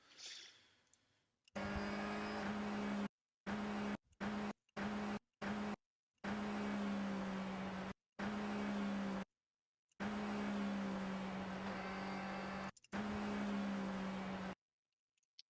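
Audi A4 B5 Super Touring race car engine at full throttle in a video game sound mod, a sustained buzzing engine drone broken into repeated bursts with short silent gaps between them.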